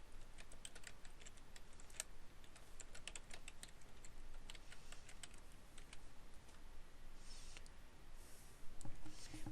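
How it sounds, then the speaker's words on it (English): Rapid keystrokes clatter on a computer keyboard in an irregular, continuous stream of close, crisp clicks, with a slightly louder flurry near the end and no talk. "My keyboard can't type sometimes."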